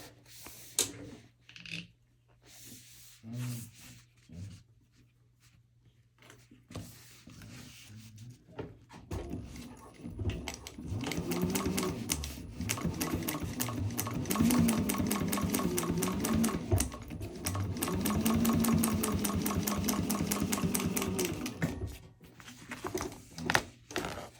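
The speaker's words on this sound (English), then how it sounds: "I'm going to take to the machine and I'm going to top stitch right along this edge here to reinforce" A sewing machine top stitches along a fabric edge of a purse panel, starting with a few handling clicks and rustles, then running in a long steady hum with brief pauses before stopping.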